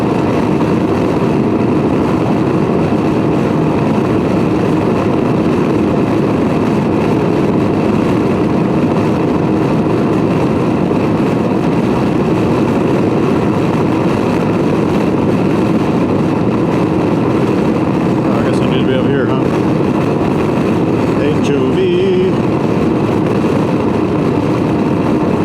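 Steady road rumble and engine drone from a 2019 Can-Am Ryker Rally three-wheeler ridden over grooved pavement, a continuous loud low roar with wind, unbroken for the whole stretch.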